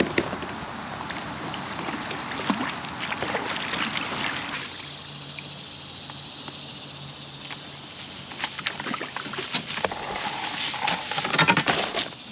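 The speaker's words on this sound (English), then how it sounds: "I guess I'll start paddling." A boat is paddled along a Pennsylvania river on a fishing trip, with soft irregular dips and trickling splashes of water over a quiet outdoor background and no talking.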